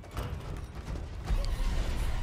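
Door being opened in Resident Evil 4 Remake, a drawn-out creak with rattling mechanical clicks, growing louder and heavier toward the end, with no voices.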